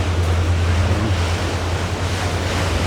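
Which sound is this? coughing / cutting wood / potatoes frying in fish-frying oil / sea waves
sea waves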